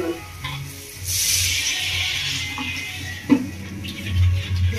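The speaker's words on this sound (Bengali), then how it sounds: "মশলাটা কষিয়ে নিয়েছি, এবার দিয়ে দিচ্ছি এর মধ্যে জল" Water poured into a pan of sizzling fried spice paste for a prawn and jackfruit curry, a sudden burst of hissing steam that settles into a bubbling simmer with a clunk of the vessel.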